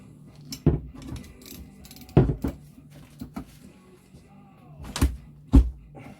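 A ratchet tightens the fork bolts on a Lifan 125 motorcycle during a rebuild, giving several short bursts of close mechanical clicking separated by pauses, with no talking.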